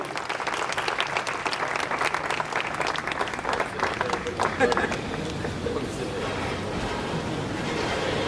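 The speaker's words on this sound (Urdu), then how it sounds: "آپ سب کی بھرپور تالیوں میں." Conference audience at a Minority Day gathering in Karachi breaking into loud, sustained applause for an incoming speaker, a thick continuous clatter of many hands that thins slightly near the end.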